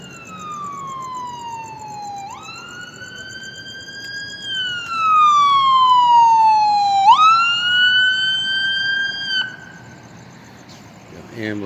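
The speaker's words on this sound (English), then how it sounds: "Ambulance showing up." An ambulance siren arrives at a scene, a loud wailing tone that sweeps down and up in long cycles, growing nearer and louder midway, with low traffic rumble beneath.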